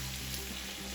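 Sardines frying with sliced onions in a pan, a dense continuous sizzle with steady crackle at close range and no voices.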